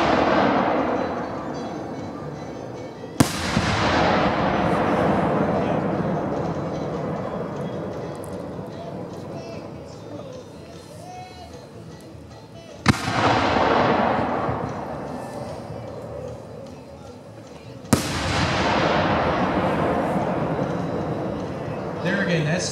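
Vulcan blue firework shells from a standard assortment burst three times with sharp booms, each followed by a long crackling, hissing decay. People talk over the display between bursts.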